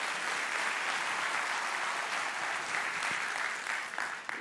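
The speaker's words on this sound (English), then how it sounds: "Give yourselves a really warm set of applause." A large event audience breaks into sustained, dense applause, loud and steady throughout with no talking over it.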